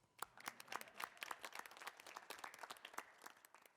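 An audience applauds at a college residency event, a steady patter of many hands clapping at moderate distance, faint and unaccompanied by voices.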